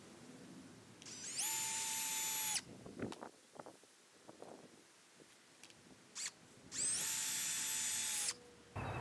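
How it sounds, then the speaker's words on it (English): Power drill driving screws into a raised garden bed: two sustained whirring bursts, close and loud, separated by quieter clatter and handling noise. "then just pulled that up and put a few screws in"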